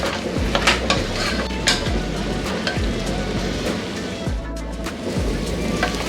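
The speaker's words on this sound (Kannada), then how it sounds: "ಮಧ್ಯದಲ್ಲಿ ಈ ರೀತಿ ತಿರುಗಿಸ್ತಾ ಇರಬೇಕು" A spoon steadily stirs masala radish stir fry in a pan, giving continuous close scraping and clinking against the metal with a faint sizzle underneath, heard alone with no talking.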